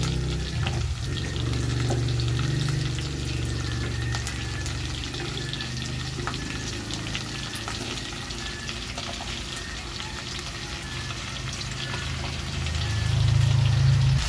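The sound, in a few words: vegetables frying with pork in a pan for minudo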